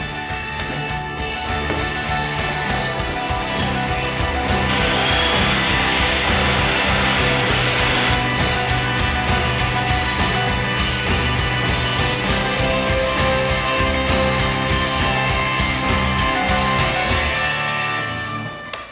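Power tool drilling and cutting through MDF sheet for a round chandelier, a loud continuous whining buzz throughout with a brighter, harsher stretch partway through as the bit or blade bites harder, with no voices.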